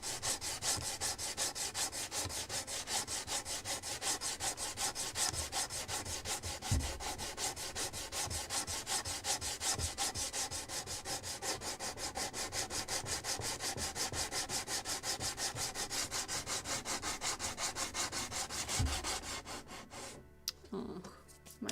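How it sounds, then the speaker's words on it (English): Basswood being hand-sanded while building a model of the 1776 gunboat Philadelphia: steady, close, continuous rhythmic rubbing strokes for about twenty seconds, stopping near the end. "Maybe I will start sanding first."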